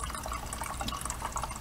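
A Sawyer Mini water filter rigged as a gravity filter, with water trickling and dripping steadily through it, close and continuous at a moderate level.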